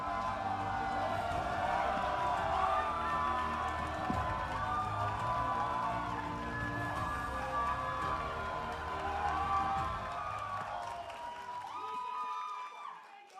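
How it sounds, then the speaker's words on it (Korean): A crowd at a political party convention applauds and cheers for a party leader candidate, a faint, distant wash of clapping and voices with sustained chanting tones, fading near the end. "뜨거운 박수 부탁드립니다."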